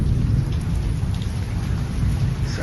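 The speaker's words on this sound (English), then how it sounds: "It started up okay in the morning, but yeah, it's Storm Alice playing up again." Storm Alice hits Torrevieja, Spain, with heavy rain drumming steadily on surfaces and a deep, continuous rumble of thunder underneath.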